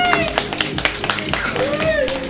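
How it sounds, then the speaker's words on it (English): Clapping at a magic show, a scattering of distinct hand claps from the audience while a voice keeps talking over them and music or tonal sounds sit underneath. "Give me a round of applause."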